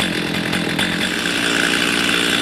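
Stihl chainsaw engine idling roughly, a loud close, steady buzzing drone with a fine rapid pulse, running unbroken without talk.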